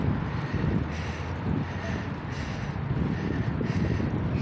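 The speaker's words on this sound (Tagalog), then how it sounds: "Lumakas yung hangin ah." Steady wind blows and rumbles against the microphone, a constant low buffeting roar throughout with no other clear sounds.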